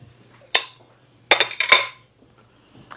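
A snowman-shaped spatula clinks down onto dishes beside a white cake, three or four short bright metallic taps close by with a faint steady hum underneath and one small tick at the end.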